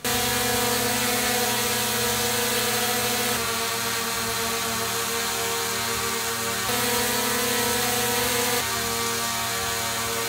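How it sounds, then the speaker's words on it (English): A steady, close whine from DJI Mini 5 Pro drone propellers fills the whole stretch, a dense buzzing hum with layered tonal harmonics that shifts slightly every few seconds, with no talking. "When it comes to the noise level of the two drones, I was surprised to see that the Mini 5 Pro is just slightly quieter"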